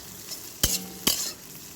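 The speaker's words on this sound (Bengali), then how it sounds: "ওই একই তেলে আমরা ভেজে নেব সয়াবিনগুলো সয়াগুলোকেও আমরা ভেজে নিচ্ছি লো টু মিডিয়াম আছে রেখে একটু লাল লাল করে" Soybean chunks frying in oil over low to medium heat, a soft sizzle with two sharp stirring scrapes of a spoon against the pan.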